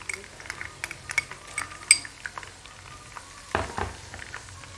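Garlic paste hits browned onions in a pot for beef nihari, giving a soft, low sizzle with scattered clinks of a spoon against the pan and a brief stirring scrape.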